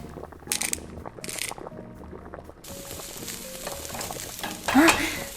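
Food frying in a pan on a home stove, a continuous soft sizzle with occasional stirring clatter and a brief louder burst near the end, with no talking.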